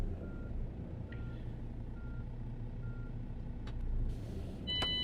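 Truck reversing beeps from the On The Road Truck Simulator video game on PS5, with short tonal bleeps sounding over a steady low engine rumble, growing louder near the end as the truck backs up to loading doors.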